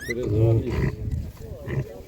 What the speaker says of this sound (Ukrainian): Ось такі свинки.